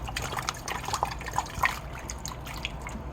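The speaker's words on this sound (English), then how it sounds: "let's add some water." Water is poured into a cooking pan during meal prep, making a steady splashing trickle with bright drips throughout the short stretch, close and fairly loud.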